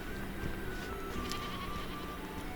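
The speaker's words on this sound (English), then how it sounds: "Okay, not sheep, they're goats." Goats bleating a few times at moderate distance on a rocky Scottish highland trail near Inversnaid, the calls rising over steady outdoor wind and rustle.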